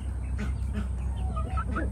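Young homestead chickens cluck and chirp in short bursts over a steady low background hum, close by with no talking.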